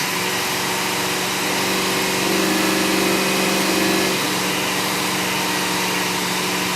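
Car engine held at about 2500 rpm on a tuning run, a loud steady drone with a constant hum that swells slightly midway and then settles, close and continuous throughout.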